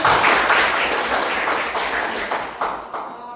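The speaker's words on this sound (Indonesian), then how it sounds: "Tepuk tangan buat Ayu." A crowd claps in dense, steady applause that gradually thins and fades toward the end.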